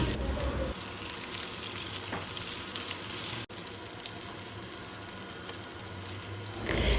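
Raw jackfruit pieces fry in soybean oil, a steady, close sizzle running throughout with faint stirring and a brief dip midway.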